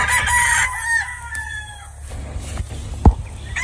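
A chicken clucks and calls outdoors against low background rumble, with a brief thump near the end.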